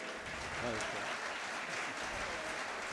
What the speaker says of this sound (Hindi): ज़रा जोरदार तालियां बजाइए।